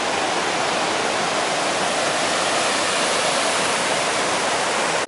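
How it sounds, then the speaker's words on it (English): A river near Melrose in the Scottish Borders, beside the Southern Upland Way, rushes in a constant, loud, even roar of flowing water that fills the whole stretch with no break. "Beautiful river."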